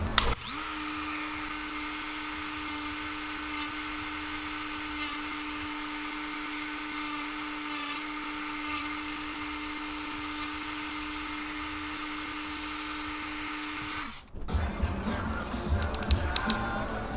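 Power drill widening a hole to a quarter inch while making a fishing lure, with a steady close high-pitched whine held for about fourteen seconds before it cuts off, followed by clattering handling noise.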